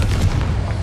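Confringo fire spell blast in Hogwarts Legacy, a short loud booming burst with a rumbling, crackling low end filling under a second.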